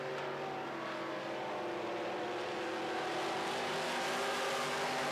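Modified race cars roar around a dirt oval in a Midwest Mods heat, several engines blending into a loud, continuous drone as two cars battle for second and third, with no voices over the noise.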